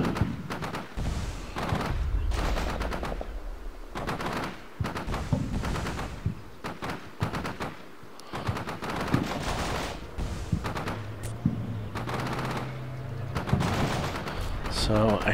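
Combat gunfire from the wargame Combat Mission Shock Force, with a British force under fire: repeated bursts of automatic and rifle shots at mid distance, steady throughout, interleaved with talk.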